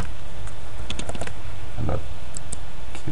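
Scattered keyboard key clicks, a few quick taps close together then isolated presses, over a steady background hum with no talking.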